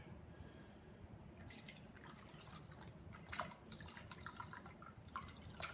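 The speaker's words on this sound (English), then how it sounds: "Drip, drip, drip." Water dripping off a potato lifted out of a measuring jug of water, a scatter of small irregular drips and splashes, close but quiet, over a steady low background hum.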